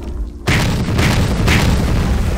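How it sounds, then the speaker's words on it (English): A loud, close boom from a click-triggered explosion in a flash video game bursts in after a quiet moment, followed by a sustained rumbling roar with repeated pulses, and no talking. "Every explosion gets you 15 bucks"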